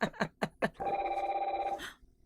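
Telephone ringing to bring in a caller on a talk podcast: a sustained electronic trill of about a second, preceded by a few sharp bursts, loud and close.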